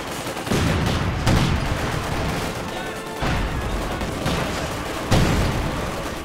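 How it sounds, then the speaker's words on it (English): Light machine guns fire in Company of Heroes 2, Soviet Guards infantry mowing down enemies: dense bursts of rapid gunfire and booming impacts in several loud waves separated by brief dips, no speech over it. "going to get just mowed down here by the Guardians with the light machine guns"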